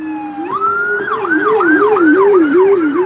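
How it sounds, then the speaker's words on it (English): A fire rescue truck siren wails past on a main road, its tone sweeping up and down in a steady repeating cycle, loud and close with road rumble beneath. "More sirens going that way."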